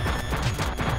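Rapid gunfire from the retro-style game Retro City Rampage, a quick run of repeated shots in a steady rhythm over a constant background tone, loud and close.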